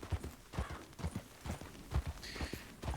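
Horse hooves clip-clop at a steady, rhythmic walking pace in the Red Dead Redemption 2 video game, the beats close and distinct against a faint background with no talking.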